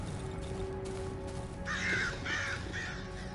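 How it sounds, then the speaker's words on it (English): Crows cawing in the horror survival game Darkwood, several harsh caws in a short run over a steady low game ambience with a faint tonal hum. "You scared the birds away, and they're gone."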